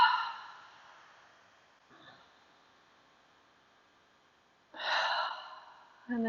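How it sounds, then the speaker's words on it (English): Two deep breaths in a quiet room, each a slow, close breathy rush, separated by a long silence with a faint sniff between them. "Couple deep breaths."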